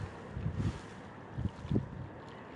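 Wind buffets an outdoor microphone beside a spring river, producing a low, rumbling roar with a few gusty thumps over a steady hiss and no talk.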